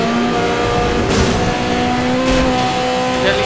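A car hits its nitrous boost in Need for Speed Most Wanted, producing a loud, sustained engine roar that climbs in pitch, with brief whooshing surges.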